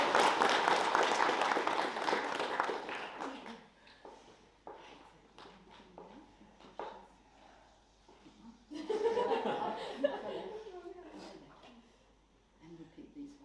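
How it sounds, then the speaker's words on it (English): Wedding guests at a ceremony at Exmouth Country Lodge clap loudly for a few seconds, then scattered laughter, footsteps and murmuring follow before a second, softer round of applause mixed with chatter. "Could we just have a round of applause?"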